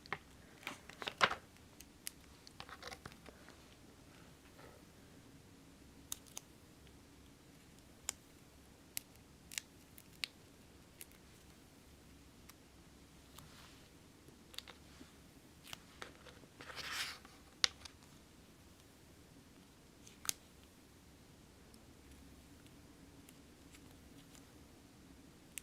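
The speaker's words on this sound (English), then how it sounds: "I'm just gonna cut a few to about the size I think I need." Scissors snip through thin Waffle Flower foam strips at a craft table, giving sparse, sharp clicks and short cuts spread across a quiet room, close and faint, with no talking.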